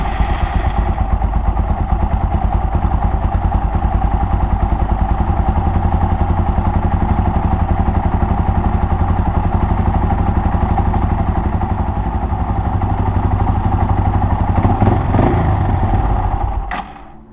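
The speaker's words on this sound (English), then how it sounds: "So basically what I did is give the bike a warm-up" A Yamaha TW200 motorcycle engine warms up at idle, a loud, steady, close thumping drone that holds for about fifteen seconds before briefly rising and then cutting off.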